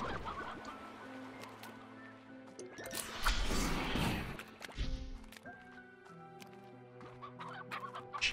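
Chickens clucking in the video game Slime Rancher, several birds in a busy ranch scene with overlapping clucks, a surge of louder activity midway and steady game ambience with tonal music underneath.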